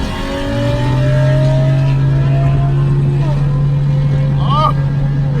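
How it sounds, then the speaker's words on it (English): Cars street racing in Austin, including a Chrysler 300, with engines revving and a steady loud roar under voices and crowd chatter, plus a brief high screech near the end. "Random street racing."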